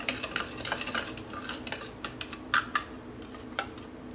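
Chicken marinade with black chili, olive oil and salt being mixed by hand in a bowl, with irregular clinks and scrapes of a spoon against the dish, close and fairly loud with no talking.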